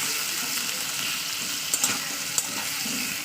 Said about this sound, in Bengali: ফুল গ্যাসে আমি একদম তিন থেকে চার মিনিট ভাড়া করে নেবো